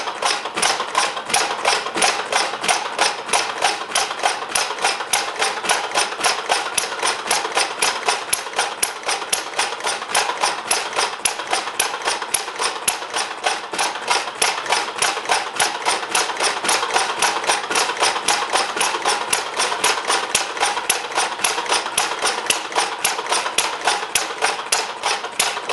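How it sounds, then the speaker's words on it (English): A scale model of Henry Ford's kitchen sink engine runs steadily on a temporary setup during its first start, a fast, even, loud train of sharp mechanical ticks with no pauses, alone and without talk. "model of Henery Fords engine."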